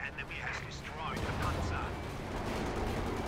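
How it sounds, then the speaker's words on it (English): Light artillery barrage in Company of Heroes 2 on the Belgorod map, a dense rumbling wash of distant explosions and low booms, with a voice talking over it. "There's the light artillery barrage again"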